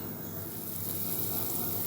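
Steady bubbling and hissing of water at a rolling boil in a pot, continuous and close, with no voices.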